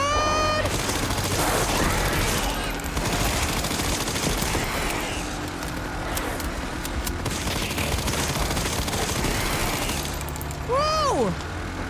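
Dense, rapid video-game gunfire rattles on and on during a shooting stage, with booms and mechanical clatter mixed in and a few tonal game sound effects near the end.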